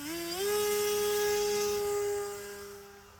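A HEEWING T2 Cruza RC airplane with an electric motor gives a loud, steady whine that climbs in pitch as the throttle opens, then holds one tone before easing slightly at the end.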